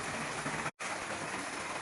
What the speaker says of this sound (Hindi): क्या हुआ नीलू के साथ इतनी तेज बारिश में?